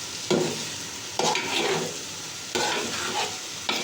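Biryani ingredients fry in a hot pan while being stirred, with a steady sizzle and four distinct scraping stir strokes at roughly one-second intervals, close and clear with no talk.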